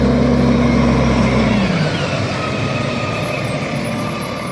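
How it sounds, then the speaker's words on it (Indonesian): A toy garbage truck gives off a loud, steady engine rumble that drops away into a hissing, airy noise, with no talking. "Lihat teman-teman, ini truk sampah."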